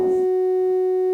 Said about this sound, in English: So I'm going to grab the AC output of this VCO,